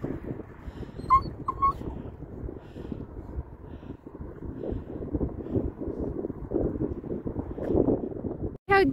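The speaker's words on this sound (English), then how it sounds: "Look at the dusty dog." A dusty dog outdoors lets out a few brief, high whimpers and yips over rumbling wind noise, with another thin whine right at the end.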